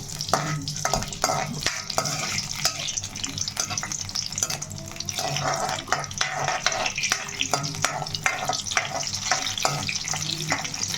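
Green chillies frying in oil that was not yet fully hot in a pan, sizzling steadily with frequent crisp spatters and clicking stirring sounds close by.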